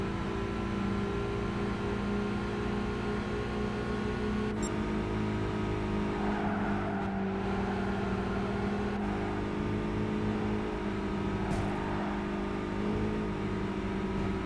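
Alfa and Mini hot hatch race cars in Gran Turismo 5, a steady droning engine hum with layered tonal whine, holding level for the whole stretch with only brief shifts.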